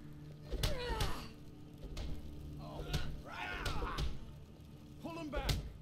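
Blows and thuds of a brawl in Skyrim, several dull impacts spaced irregularly through the scene, heard under and between talking voices.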